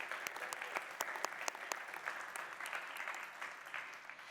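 An audience at a panel discussion applauds a speaker being introduced, a steady patter of many hands clapping at moderate distance, fairly quiet and sustained throughout.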